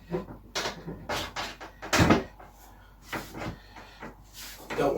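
Wooden garden bench parts tapped home onto dowels, giving a run of irregular knocks and thuds with one heavier hit near the middle, close by, with a person speaking quietly in places.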